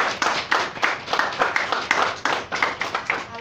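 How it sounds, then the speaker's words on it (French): An audience applauds artists at a festival opening and exhibition, close lively clapping with a loose, uneven rhythm of individual hand claps standing out, loud and without talk. "Alors, on applaudit nos artistes."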